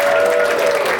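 Loud, dense applause from an audience at the Birdland jazz club in New York after a brass performance, a continuous roar of clapping through the whole short stretch.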